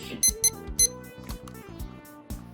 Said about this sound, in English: the button beeps sound like a fucking microwave oven